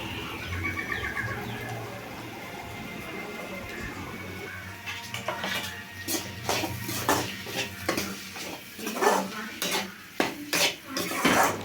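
A spoon scrapes and clatters against a pan while stirring cooked snake gourd fry, starting with quiet background noise and birdsong, then giving way to a series of sharp, close metallic knocks that grow louder toward the end.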